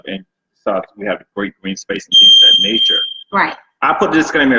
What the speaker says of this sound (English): sorry about the beeping you guys hear.